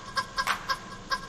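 A tune plays on a live stream as a short series of clucking, chicken-like notes in an uneven rhythm, fairly quiet and heard alone.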